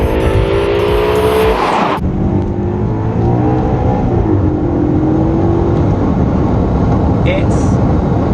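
A Maserati GranTurismo's powerful engine roars at close range, rising in pitch as it accelerates, with steady road and wind noise throughout.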